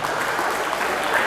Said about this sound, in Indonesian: Berikan sorak-sorai buat Tuhan kita.